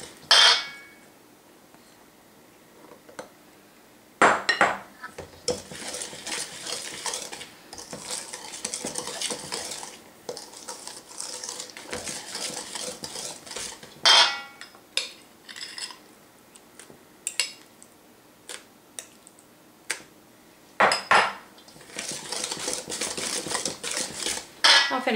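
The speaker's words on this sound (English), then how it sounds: "I almost have all of this mixed together" Banana bread batter stirred and scraped in a bowl, with clinking utensil strokes against the sides in irregular bursts, close and fairly loud, with short pauses between rounds of mixing.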